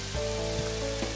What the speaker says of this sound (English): Thankfully, the rain was there to cool me off, as well as soak the ends of my outfit